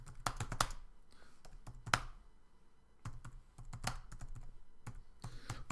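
Rapid keyboard typing on a computer, with uneven bursts of close, crisp key clicks separated by short pauses, loud and alone.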